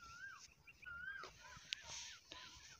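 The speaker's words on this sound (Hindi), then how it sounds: "ये कोयल कहाँ से है?" An Asian koel calls out several times with rising, whistled notes over faint background noise in a village at dusk, fairly close and clear.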